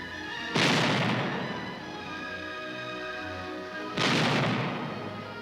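Long-range direct fire from tanks in the Korean War: two heavy booming cannon shots a few seconds apart, each a sharp loud blast followed by a long rolling decay.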